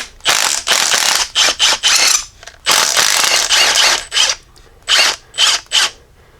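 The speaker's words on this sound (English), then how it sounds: "I'm actually going to use my impact just because they're a little bit tight" An impact wrench breaking free tight Allen bolts on the rear brakes of a Jeep Grand Cherokee WK2, loud close hammering bursts, several long runs followed by shorter quick pulses separated by brief pauses.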